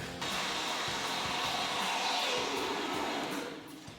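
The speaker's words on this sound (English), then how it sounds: "the foam was dropping down in the void and now it's meeting itself" Spray foam filling a cellar wall void: a steady, broadband hissing rush runs almost unbroken for several seconds, fairly loud and close, easing off slightly near the end.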